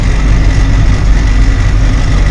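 A truck's diesel engine runs steadily after refuelling at a diesel pump, with a loud, continuous low rumble and idle throb filling the whole stretch with no pauses.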